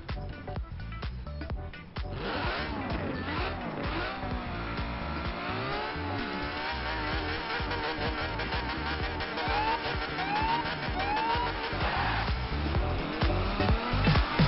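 Race cars revving and roaring in a drag race in the Forza Horizon 4 video game, a Bugatti Divo and a Ferrari 599XX Evo, engine drone steady and loud throughout with rising gear-shift whines and tire noise.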